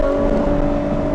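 A Ferrari V12 engine screams at high revs, a loud, steady, unbroken tone with strong harmonics and wind rush, heard from inside the car with no talking.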